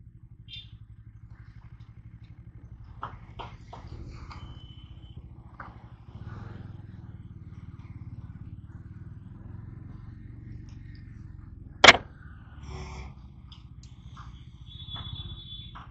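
A Bajaj Dominar 400 motorcycle rides on and overtakes, its low engine rumble steady and fairly quiet beneath scattered clicks and one sharp knock near the twelve-second mark.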